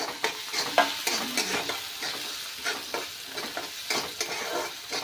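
Tomato tossed into fried onions for upma, a spoon scraping and stirring in quick irregular strokes over a constant close sizzle, with no voices.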